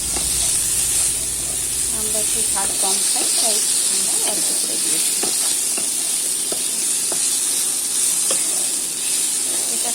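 Green chili paste sizzles steadily in a hot pan, a constant frying hiss running the whole time, with stirring clinks scattered through it and someone talking over the cooking.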